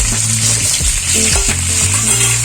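Chicken pieces hitting hot oil in a pan with green chillies and curry leaves, a loud, steady sizzle with scraping stir strokes throughout, close up and without talk.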